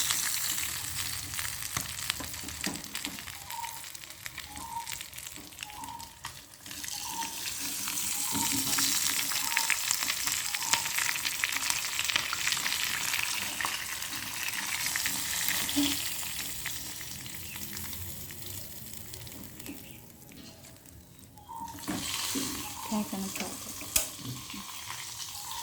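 Crab frying in a pan over a lowered flame gives a steady soft sizzle with occasional stirring and faint water or sink sounds mixed in, continuous throughout with no talking.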